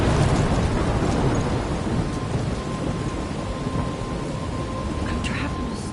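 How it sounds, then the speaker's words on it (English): A heavy thunderstorm from the video game Life Is Strange brings dense rain and a deep, rolling rumble of thunder, loud and continuous from start to finish, with no voices. "I'm trapped in a storm?"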